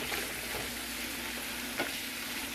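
Peppers and onions fry in a pan for tacos, giving off a steady, even sizzling hiss with one brief crackle midway, close and continuous, with no talking.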